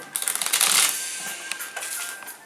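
Playing cards being shuffled in a riffle, a dense burst of quick flutters swelling then trailing into lighter snaps, fairly close and with no talk over it.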